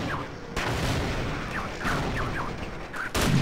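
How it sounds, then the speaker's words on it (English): Grenade blasts in Half-Life co-op play, three loud broadband booms spaced about 1.3 seconds apart over a busy rumbling game backdrop, with chirping creature calls between them. "Was that enough grenades?"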